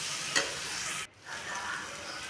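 Onions frying in a pan with turmeric and salt being stirred in, a close hissing sizzle with a brief scraping stir, a short drop in level, then sizzling resumes.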